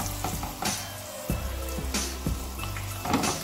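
Pieces of pork sizzle in a hot frying pan over above-medium heat, a constant crackling hiss broken by sharp spits and pops as further pieces drop in, with no talk.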